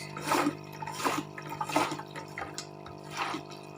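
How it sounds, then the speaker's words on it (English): Repeated watery splashes and trickles in a rough rhythm, about five squeezing bursts close up as water is squeezed out of an aquarium filter, fairly quiet. "Squeeze a decent amount of water out."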